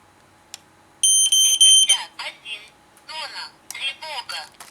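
A wired smoke sensor connected to a WPG alarm host sets off sharp electronic beeping tones, followed by a loud warbling siren in uneven bursts, close by in a quiet room.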